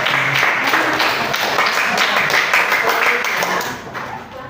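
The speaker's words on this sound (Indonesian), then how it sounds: "Kasih tepuk tangan" A school class of students claps together in a classroom, a dense burst of applause that stays loud and then fades off toward the end.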